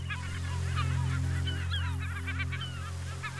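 Caspian gulls calling from a colony in Absheron National Park, with overlapping nasal cries and laughing calls repeating throughout over a steady low rumble.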